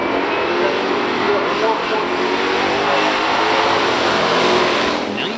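The 440 engine of a 1971 Plymouth Cuda revs loudly and steadily at a pure stock drag race, with a continuous close roar that lasts the whole stretch, and an announcer talks over it.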